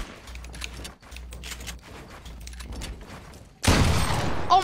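A pump shotgun fires in Fortnite. A single loud, sharp blast cuts in near the end, following quieter game ambience.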